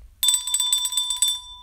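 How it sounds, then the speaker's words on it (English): A small metal bell, like a bicycle bell, rung in a quick rapid trill of bright strikes for about a second, close and clear in an otherwise quiet room. "got to ring the bell"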